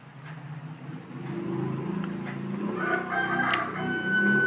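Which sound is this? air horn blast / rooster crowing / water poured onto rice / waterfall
rooster crowing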